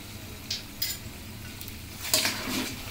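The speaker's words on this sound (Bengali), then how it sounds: "এই গরম মশলাটা দিয়ে এখন ভালো মতো নেড়ে চেড়ে মিশিয়ে" Garam masala is stirred into cooked beef in a pan, a few close scraping strokes of a spoon rising above a low, steady sizzle.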